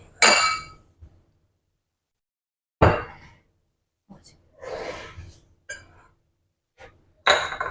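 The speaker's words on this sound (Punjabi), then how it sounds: "ਲੈਚੀਆਂ ਨੂੰ ਇਹਦੇ ਚ ਪਾ ਕੇ ਕੁੱਟ ਲੈਨੇ ਆ" Green cardamom pods pounded in a mortar, making several sharp, separate knocks and clinks spaced apart with silence between them, close and fairly loud.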